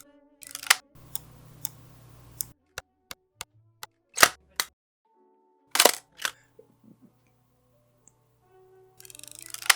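A Mamiya M645 medium format film camera gives sharp mechanical clacks of its shutter and mirror, interspersed with softer winding and handling clicks and a brief whirring stretch, isolated and close.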